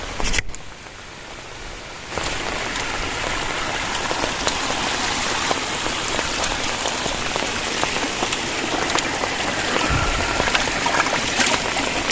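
Heavy rain pours down on a campsite in dense forest beside a waterfall, a dense, continuous patter of drops striking surfaces that grows slightly louder after the first couple of seconds and carries on with no speech.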